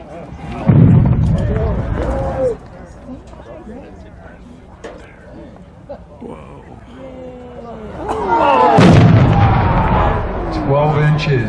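A 12-inch firework shell at a winter fireworks showcase booms on launch and bursts with a loud deep thump, followed later by a second heavy blast and rumbling crackle, while people talk and react in between.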